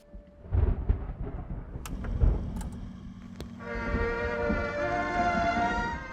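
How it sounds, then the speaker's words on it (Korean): Thunder rolls through a stormy night in a Southeast Asian horror film, with deep rumbling bursts and sharp cracks early on, then giving way to a sustained tonal, music-like drone. "천둥이 몰아치는 야심한 밤."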